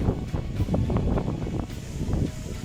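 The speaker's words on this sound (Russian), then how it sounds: "Опять ветер, я даже не знаю, будет слышно меня или нет." Wind buffets the microphone in a steady low rumble with gusty swells, continuous through the whole stretch and without any voices.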